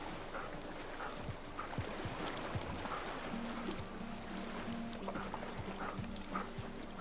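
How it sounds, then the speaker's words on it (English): A dog in the Uncharted 4 video game, heard faintly among soft game ambience with scattered light thumps and steady background noise, with no talking. "The dog knows what's up."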